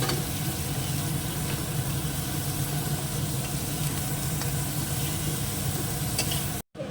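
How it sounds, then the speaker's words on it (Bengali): Prawns frying in hot oil, a steady, close sizzle that runs without a break for several seconds before a brief cut near the end. "এগুলোকে তুলে নেবো খুব সুন্দর ভাজা হয়ে গেছে"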